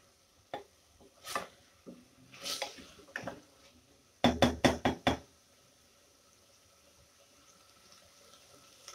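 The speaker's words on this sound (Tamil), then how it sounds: "இப்போ உருளைக்கிழங்கு சேர்த்து நல்லா 1 நிமிஷத்துக்கு வதக்கிக்கோங்க." Potatoes being sautéed in a cooker for white kurma, with a spoon knocking and scraping against the metal pot in several separate strokes, then a quick burst of four or five sharp knocks before the kitchen falls quiet.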